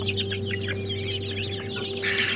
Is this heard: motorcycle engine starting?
no